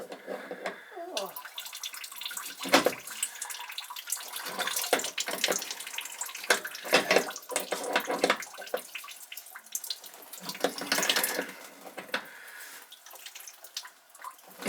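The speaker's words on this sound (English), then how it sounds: "you can shut that faucet off" Water runs steadily from a tap, splashing with a broad hiss and uneven surges, close by and fairly loud, with no talking.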